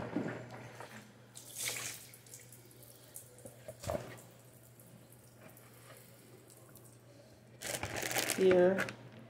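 Fish being rinsed under a running kitchen tap, water splashing into a sink in two bursts near the start and a louder stretch at the end, with quiet handling sounds between and a steady hum underneath.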